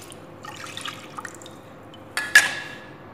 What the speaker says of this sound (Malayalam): ഇനി ഇതിലേക്ക് ബാലൻസ് ഉള്ള തേങ്ങാപ്പാൽ കൂടി ഒഴിച്ചു കൊടുക്കാം.